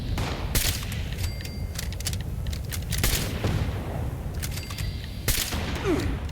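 Frag grenade explosions in Fallout 76, a few sharp booming bursts spread over a steady rumbling battle background, fairly close and loud.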